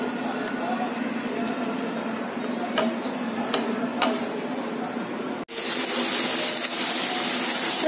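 Fish masala with sour yogurt cooks in a pan over low gas, a soft steady sizzle broken by a few stirring ticks and taps, then an abrupt cut to a louder, hissier frying texture near the end.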